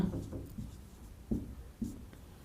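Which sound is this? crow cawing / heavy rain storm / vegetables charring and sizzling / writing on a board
writing on a board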